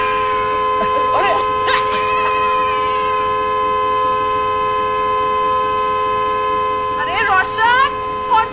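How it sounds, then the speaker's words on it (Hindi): A stuck, faulty car horn blares continuously throughout, with voices calling out briefly near the start and again toward the end. "हॉर्न खराब हो गया क्या?"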